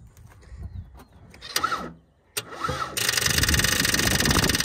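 A Ford engine is cranked by the starter in two short attempts with a gap between them, then catches and settles into a steady, loud running note that continues to the end.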